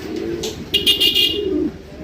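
Pigeons coo from a pair kept for sale, low throaty murmurs running through the whole stretch, with brief brighter rustling in the middle.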